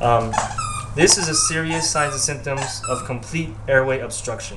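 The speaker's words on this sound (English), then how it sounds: "Sorry, that's my dog." A dog yips and whimpers in short bursts behind a person giving a spoken nursing lecture, the high cries mixed in with continuous talking.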